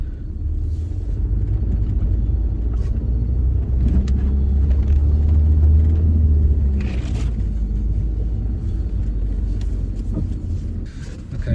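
Car engine labouring up a snowy mountain road near Kolasin, Montenegro, a steady low rumble that swells and strains in the middle, heard from inside the cabin with faint wind buffeting and no talk.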